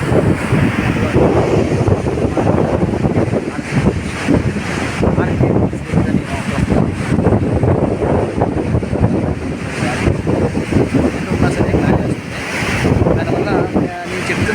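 Strong wind buffets the microphone on RK Beach in Vizag while waves roll onto the shore, a loud continuous rumble of wind and surf with faint voices mixed in.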